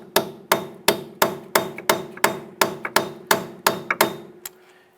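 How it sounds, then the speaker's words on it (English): A hammer strikes an extension set against a bolt to drive the hub out of the steering knuckle of a 2002-2007 Jeep Liberty. The blows are sharp metallic hits, about a dozen at a steady pace, close and clear. "strike the back side here using the bolt to push the hub out of the knuckle"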